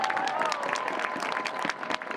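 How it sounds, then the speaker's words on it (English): A crowd at an outdoor sit-in against gender-based violence in Groningen applauds steadily, a dense wash of many hands clapping with a few cheers mixed in, loud and sustained through to the end. "Give yourself an applause."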